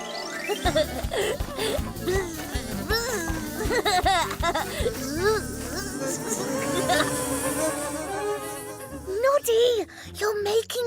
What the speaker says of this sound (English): Please, can I get inside to get some honey now, bees?